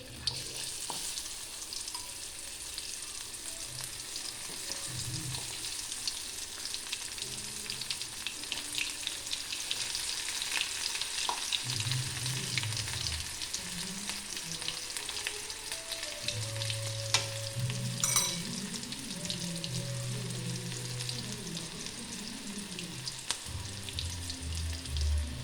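Food frying in hot oil, a continuous crackling sizzle that holds steady throughout, with faint clinks and background hum underneath.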